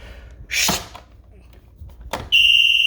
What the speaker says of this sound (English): Siren warning when it does go into alarm.